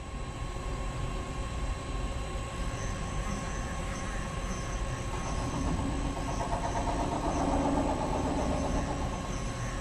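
The spindle of a Fryer ET-16 CNC lathe with Siemens control runs with a steady mechanical hum and a faint high whine, constant and close, with no talk.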